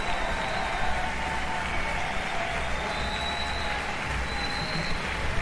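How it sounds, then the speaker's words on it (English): Baseball crowd at a Southeastern Louisiana versus LSU college game applauding a pinch hitter, steady broad clapping from a distant stadium crowd, some faint murmur underneath, continuous throughout. "Blake Money gets a big hand from the crowd"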